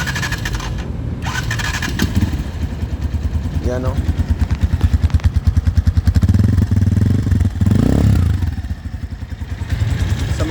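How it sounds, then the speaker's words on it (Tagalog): A KRY 200cc euro-version motorcycle engine starts up and settles into a close, loud, rapid thumping idle with a steady pulsing rhythm, someone talking briefly over it. "So ikot to guys, papakinggan yung andar niya."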